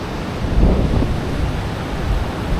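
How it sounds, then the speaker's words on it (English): Strong current of the Cedar River rushing past the bank, a steady broad roar of moving water that stays close and even throughout, with no talking over it. "Sitting here by the Cedar River"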